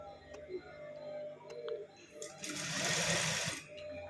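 A sewing machine stitches the lining of a blouse, running in a close, steady mechanical whir that rises into a louder, denser burst near the end, with soft ticks and no speech.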